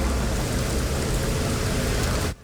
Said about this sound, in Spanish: Guayaquil empezó y termina la semana con fuertes lluvias y caída de rayos